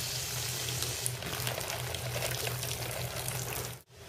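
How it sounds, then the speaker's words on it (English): Water from a Dramm watering tool with a throttled shutoff valve gushes into a 6-inch hanging basket, a steady close splashing flood that runs continuously, then briefly cuts off near the end. "I can throttle my shutoff valve and get the water right into that basket, and I'm flooding it"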